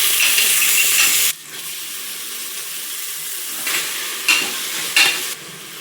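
Onion and tomato frying in oil with mustard seeds and cumin: a loud, steady sizzle for over a second, then quieter stirring with a few short bursts of sizzling near and alone.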